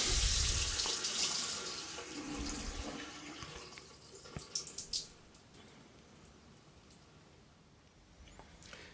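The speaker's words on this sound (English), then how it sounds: "Run some water out of a nearby faucet" Water runs from a household faucet into a sink after the supply valve is shut, a steady hiss that sputters and fades with a few splashy bursts, close and alone.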